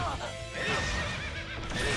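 A horse neighs loudly in a JoJo fighting game, its whinny rising and falling over busy game sound effects and faint hoofbeats, with a voice talking over it.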